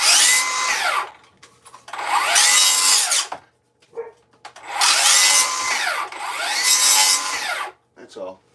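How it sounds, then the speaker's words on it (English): Power tool whining through thin 1/8-inch wooden shims at a building site, four loud cuts of about a second each with short gaps between, plus brief clatter in the pauses. "so I gotta cut 4 more shims"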